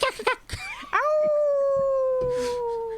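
Coyotes in dark, mossy woods: after a few short yips and barks, a clear howl rises and holds steadily for two seconds, slowly fading, with faint scattered yips behind it.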